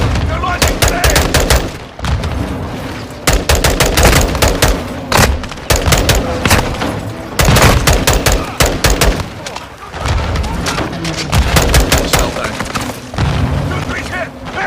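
Dense, loud gunfire and booming grenade launches in the Modern Warfare 2 video game, with near-continuous rapid shots and heavy thuds over the whole battle scene.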